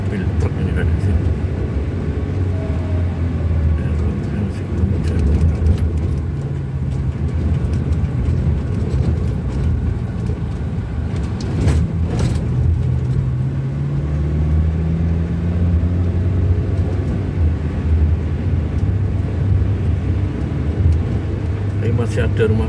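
A truck passes by on a road near village houses, a low engine rumble rising and falling across the scene, with other vehicle noise mixed in.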